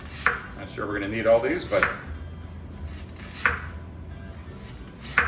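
A knife cuts through sweet potatoes on a cutting board, giving a few distinct close knocks spaced apart while a person talks over them.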